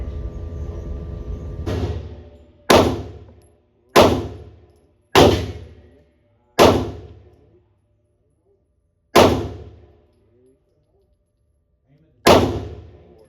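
Seven loud 9mm pistol shots at a steel target 7 yards away, each a sharp crack followed by a ringing decay, spaced unevenly with silent gaps between them.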